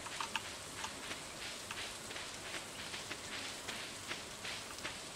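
Rain falling on a rainy day in the Stardew Valley video game, a steady soft hiss with scattered brighter drop patters, continuous and even throughout.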